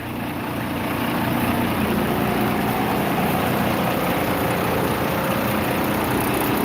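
A bus engine idles steadily after a cold start, a dense, even rumble that holds constant throughout with no voices over it.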